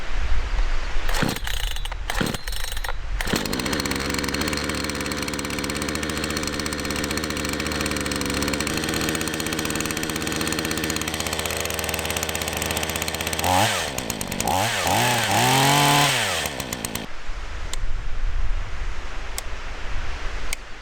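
A Hyundai petrol chainsaw pulls into life after a few sputters and runs loud and close, idling steadily before several revving surges, then cuts off near the end with no talking.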